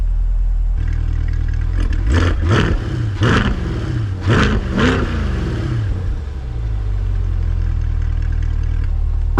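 A 2024 Chevrolet Corvette C8 engine idles with a deep rumble, then revs sharply to about 2,000–2,500 RPM several times in quick bursts before settling back to a low idle.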